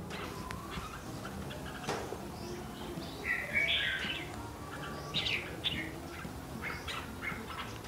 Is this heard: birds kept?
yes